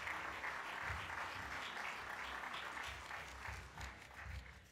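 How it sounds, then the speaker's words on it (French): A room of listeners at a business talk in Casablanca applauds for a bank's chief executive, the clapping faint and distant, spread evenly across the whole stretch with no voices over it. "que nous applaudissons bien fort"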